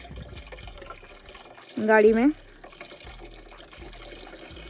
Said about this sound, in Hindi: अभी ये डल रहा है पानी